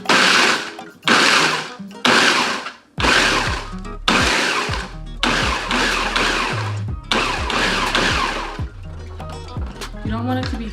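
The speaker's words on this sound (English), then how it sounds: "start pulsing our Oreo cookies" A food processor pulses Oreo cookies into crumbs for a crust: a series of short, loud whirring bursts with heavy thumps and pauses between them, up close.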